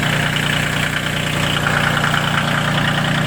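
A Yanmar YM2610 mini tractor engine idles steadily and close, a constant even rumble with a buzzing mechanical hum and no voices.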